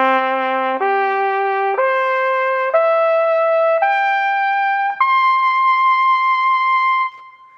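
A trumpet without valves climbs through its natural harmonic series: six separate sustained notes, each stepping higher, bright and close with no other sound.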